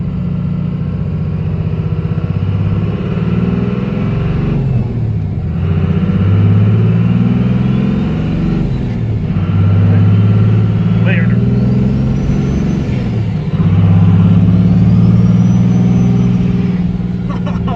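A 24-valve Cummins diesel truck engine with a P-pump swap rumbles and revs in repeated swells, loud and near, its deep drone rising and falling under ongoing conversation.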